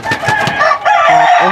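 Pet hens clucking and crowing close by in a backyard coop where they are given water, short repeated clucks and a crowing call that fill the clip with no talk.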